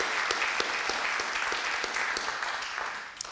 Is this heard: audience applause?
yes